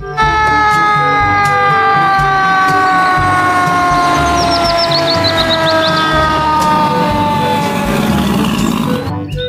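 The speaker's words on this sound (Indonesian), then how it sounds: "Yang ini ada mobil pemadam kebakaran." A toy fire truck plays a loud, continuous electronic siren that wails steadily up close from start to finish.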